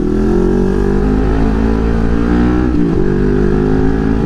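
Yamaha XSR900 motorcycle ridden with a loud steady engine drone close by, pitch holding level then briefly dropping as the throttle shifts near the end, no talking.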